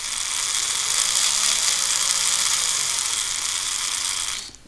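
An unoiled Scalextric Aston Martin C57 slot car, powered from a transformer, runs its motor with a loud, steady high-pitched buzzing whine that holds for about four seconds and then cuts off.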